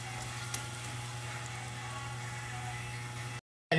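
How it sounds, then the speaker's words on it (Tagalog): A pot of water and chicken feet comes to a boil, giving a steady, close bubbling hiss with a low hum beneath, then a short silence and a brief resumption. "Ayan, kumukulo na."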